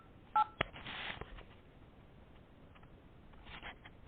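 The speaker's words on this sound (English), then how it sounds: "So I'm going to call my voicemail" A telephone keypad dials into voicemail, giving a few short, clear tone beeps near the start, followed by faint quiet handling noise, with no talk.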